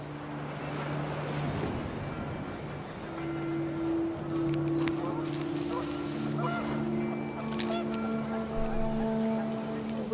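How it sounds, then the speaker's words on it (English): Panicked geese in the video game What Remains of Edith Finch honk repeatedly over a windy outdoor scene, with steady tonal calls layered above a broad gusting wash and faint voices underneath. "panicked geese appeared and quickly went"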